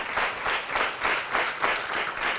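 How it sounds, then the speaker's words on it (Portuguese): Studio audience on a Portuguese morning TV show applauding the guests, a steady, dense round of clapping that holds evenly for a couple of seconds. "um aplauso para os nossos convidados"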